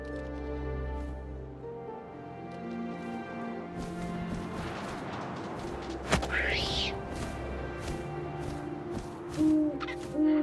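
An owl in the video game What Remains of Edith Finch hoots low amid wind and ambient game sounds, with a rising screech and a few thuds, fairly quiet overall.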